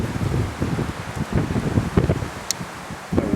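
Strong wind gusts buffet the microphone outdoors at an air rifle shooting session, a continuous rough rumble with rustling that swells and falls in uneven bursts.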